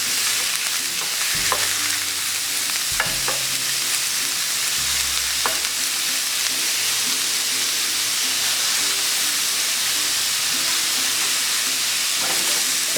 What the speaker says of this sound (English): We're just going to give it a quick sear, just to seal the steak.